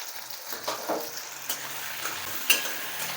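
Spiced onion masala with salt and turmeric being fried and stirred in a pan, giving a steady close sizzle broken by soft scraping strokes, with no one speaking.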